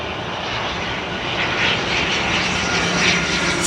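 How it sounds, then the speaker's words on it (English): Loganair propeller aircraft passing at Heathrow, a steady broadband engine drone with a slight swell, heard alone for a few seconds. "It's a prop. It's a propeller."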